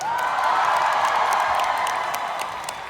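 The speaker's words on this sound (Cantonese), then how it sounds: "最熱烈嘅掌聲俾我哋嘅 band" An audience at a live concert cheers and applauds for the band in a loud, sustained wash of crowd noise with scattered claps.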